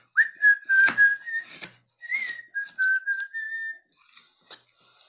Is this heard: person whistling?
yes